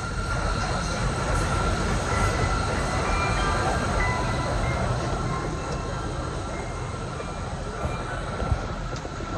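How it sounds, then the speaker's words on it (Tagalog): Bullet train passing through a station in Tokyo, a loud, steady rushing roar with rail and wheel noise that holds for the whole stretch, close by and without letup. "Ayun ang bullet train."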